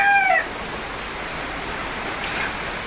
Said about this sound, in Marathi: पूर्ण कोंबड्या आतमध्ये आलेल्या आहेत शेडमध्ये